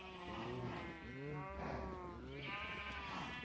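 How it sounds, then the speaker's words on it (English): Noisy cow farm in Minecraft with overlapping lowing and bleating calls from several animals, steady and close, layered continuously with no talk. "we've got a really noisy cow farm"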